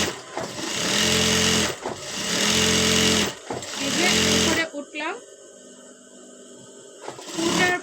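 A sewing machine stitches a kameez side seam in three loud, steady runs separated by brief pauses, then stops while a voice talks over quieter handling noise.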